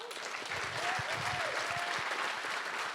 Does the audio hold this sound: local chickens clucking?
no